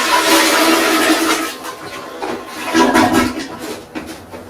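A home toilet flushes after a jug of water is poured into the bowl during a mains water outage, giving a loud rushing gush that fades into gurgling and trickling.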